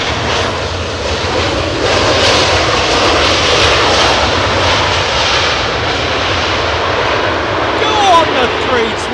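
An Airbus A320neo jet at Heathrow roars loudly and steadily at close range, a harsh, angry broadband engine noise filling the whole stretch with no one speaking.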